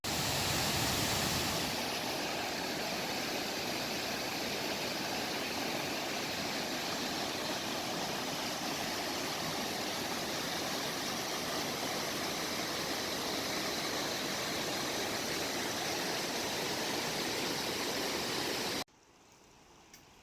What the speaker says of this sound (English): this is up at the top where that waterfall is